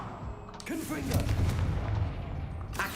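The Confringo explosive spell going off in Hogwarts Legacy: a booming, blast-like burst with a rumbling tail, set against game ambience, with a short sharp hit near the end.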